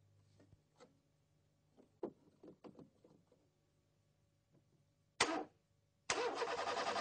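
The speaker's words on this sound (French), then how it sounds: "Il actionne le démarreur" A petrol car's starter motor cranks the engine during a battery and starting-circuit current check. Scattered faint clicks lead to a short loud burst, then a loud, steady, rough cranking whirr fills the final second alone.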